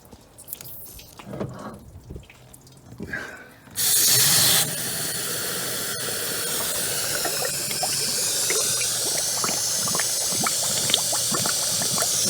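Water from a garden hose flushing out the radiator of a Mercedes W124 during a head gasket job: faint drips and fumbling first, then a sudden loud, steady rushing hiss of spraying and pouring water that continues to the end.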